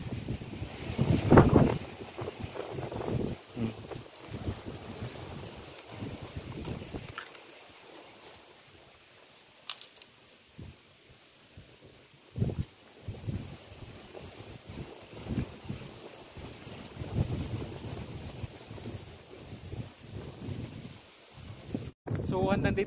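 Strong wind buffets the microphone on an open goat pasture in Negros Occidental, roaring in irregular gusts under a person's steady speech.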